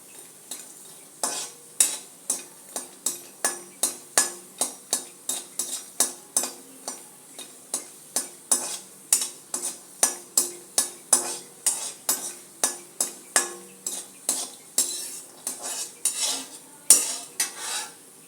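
Lumps of asafoetida frying in a pan, with a steady run of sharp metallic scrapes and taps as a spoon stirs them, one roughly every half second over a continuous light sizzle, close and clear with no talking.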